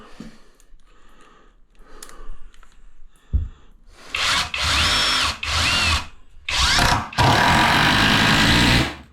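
Power drill driving screws into trim for a wall niche, several loud whirring bursts in quick succession, the last one longer, after a few quieter knocks and handling sounds.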